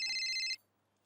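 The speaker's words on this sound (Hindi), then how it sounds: "फोन आया" An electronic telephone rings indoors in a home, a single loud burst lasting about half a second, then cuts off into near silence.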